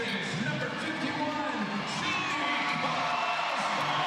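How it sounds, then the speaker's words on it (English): Arena crowd at a WNBA game between the Las Vegas Aces and Connecticut Sun applauds A'ja Wilson, a steady wash of clapping and cheering with scattered whoops, broad and continuous, mixed with announcer commentary throughout. "A'ja Wilson gets a round of applause"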